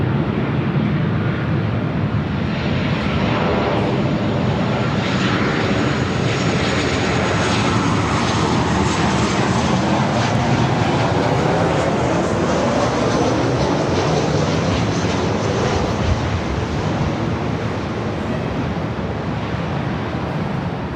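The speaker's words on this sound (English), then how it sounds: "This is Delta Airlines 2120 coming in from Las Vegas on the 737-800" A Delta Airlines Boeing 737-800 arriving at Los Angeles LAX from Las Vegas gives a loud, steady jet roar that fills the whole stretch without letup, broad and rushing like wind, with no talk over it.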